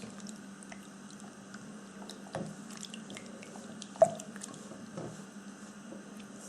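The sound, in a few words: mixing liquid dough ingredients with fingertips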